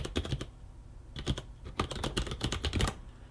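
Someone types in clusters of quick, close clicks and clacks on a computer keyboard connected to a Digilent Nexys4 FPGA board running a MEGA65 core, with brief pauses between bursts.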